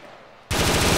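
Automatic gunfire in Arma 3 during a tower siege breaks out suddenly after a quiet moment, a loud rapid burst of close shots continuing to the end.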